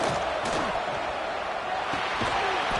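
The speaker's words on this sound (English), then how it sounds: "listen to this crowd noise. This stadium is vibrating." Stadium crowd in a football video game, a dense continuous roar of cheering with no letup, loud and even throughout, with faint scattered shouts inside the wash of noise.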